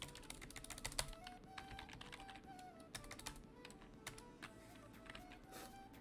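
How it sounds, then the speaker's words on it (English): Rapid, steady typing on an old clicky keyboard, with dense close-up key clacks continuing throughout and no talk. "the sound of this old mouse or this old keyboard"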